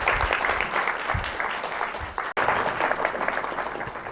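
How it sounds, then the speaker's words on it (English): A panel discussion audience gives a sustained round of applause, steady dense clapping from many hands at moderate distance, with a brief dip midway. "give them a round of applause to show them a warm round of applause"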